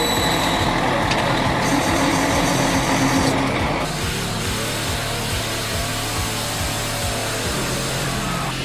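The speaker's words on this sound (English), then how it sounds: "an 80-level chainsaw with a powerful engine and dozens of horsepower cutting through massive logs" A powerful big chainsaw cuts through massive logs, its engine roaring loud and steady throughout with a shift in pitch partway as the bar bites deeper into the wood.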